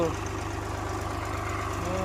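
A tractor engine idles steadily with a rapid, even chugging pulse while its pipe loads water into a tank. It stays close and continuous, with someone talking over it.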